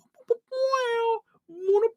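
A voice imitates a meowing, cat-like guitar solo with three short wailing notes that bend in pitch, heard close and alone.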